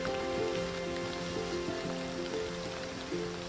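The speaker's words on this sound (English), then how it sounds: "How can it be raining and beautiful?" Steady patter of rain falling on a surface in Alaska, a continuous hiss with faint crackling texture and a low background hum, no voices.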